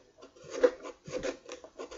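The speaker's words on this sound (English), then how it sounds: "I'm just sanding the inside here." Short bursts of sandpaper rasping back and forth on the wood inside a guitar body, close and hollow-sounding, in an uneven rhythm of strokes.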